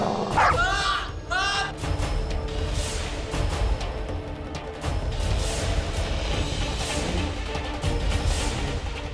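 A dog barks and yips loudly in a dramatic TV serial scene, sharp repeated barks near the start followed by ongoing crashing, roaring commotion and raised voices.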